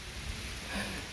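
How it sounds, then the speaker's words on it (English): Steady rain falling outdoors at a garden with potted plants and chickens, a soft continuous hiss of drops at moderate level with a faint low rumble and no talk. "I know it's raining, huh?"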